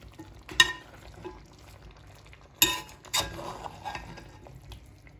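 Kuyrdak, a meat fry topped with potatoes, cooks quietly in a pan under a low sizzle, punctuated by a few sharp clinks and scrapes of a utensil against the pan.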